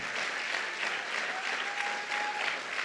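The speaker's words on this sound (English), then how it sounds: "Clap your hands like you're going to be a leader" A church congregation claps their hands together, a steady, fairly quiet roomful of applause sustained for a few seconds with no speech over it.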